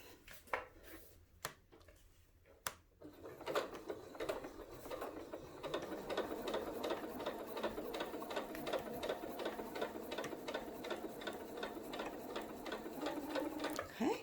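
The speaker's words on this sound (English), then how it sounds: "Now we're going to guide this fabric through the machine here" A sewing machine stitches a quarter inch seam through fabric, opening with a few sharp clicks and knocks before settling into a fast, even mechanical chatter of the needle running steadily to the end, close and quiet.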